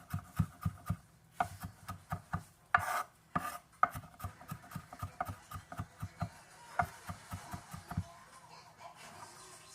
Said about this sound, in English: I'm just gonna roughly chop this up.